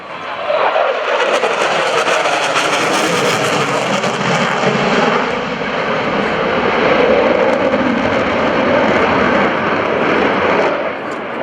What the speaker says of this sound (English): our Hornets are inbound now and we get ready to recover